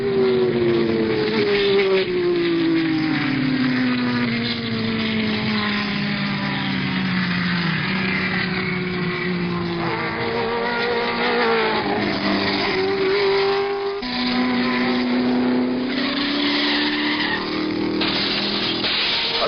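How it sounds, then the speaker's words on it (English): Several 1970 Sebring 12 Hours race cars, Ferrari and Porsche sports prototypes among them, roar past in a continuous loud engine drone with rising and falling pitch as they pass, with no talk over the sound. "Jackie Ickx in Ferrari number 20 has moved ahead of Vic Elford's number 16 Porsche"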